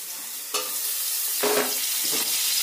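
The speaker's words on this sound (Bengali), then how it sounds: "পেঁয়াজ কুচি দিয়ে আবার একটু নেড়ে দিতে হবে" Street-style chow mein noodles fry with freshly added chopped onion, a constant hiss of hot oil with a few stirring scrapes and louder sizzle bursts as the pan is tossed.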